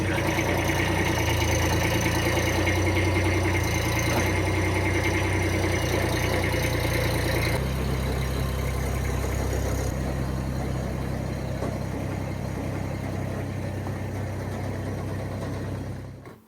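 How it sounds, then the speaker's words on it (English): A Chinese-made skid steer's engine runs steadily at a low, rumbling idle-like drone while hauling gravel, close and continuous throughout with no talking. "And bring some gravel in with skid steer."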